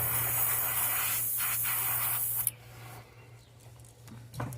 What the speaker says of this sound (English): Daggone compressor. It never goes on until I want to do a video.